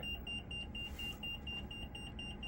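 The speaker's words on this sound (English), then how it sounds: "The damn thing still beeps." Smoke alarm beeping in a repeated steady pattern of short high-pitched chirps, loud and close over a low background rumble, with no talking.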